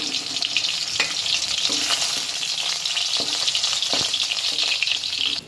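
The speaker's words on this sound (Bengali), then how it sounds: "সব মাছ ভাজা হয়ে গেছে।" Pieces of rohu fish fry in mustard oil, a dense, continuous close-up sizzle with intermittent spatula scrapes and pops, cutting off abruptly at the end.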